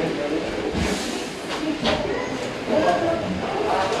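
Inside the first carriage of the Trem Caiçara, a wood-fired Maria Fumaça steam train running between Morretes and Antonina in Paraná, a steady rumble and rattle of the wagon on the rails continues throughout, with faint hissing and voices in the background.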